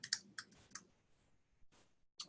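Faint clicking of a computer keyboard during office-hours coding work: a quick cluster of keystrokes, a pause, then a few scattered taps, quiet and close with no talk over them.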